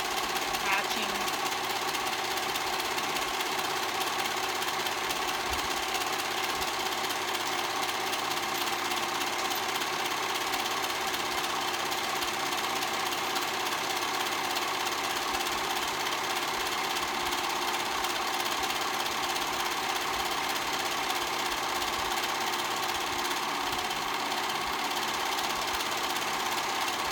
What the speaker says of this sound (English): now we're gonna serge that seam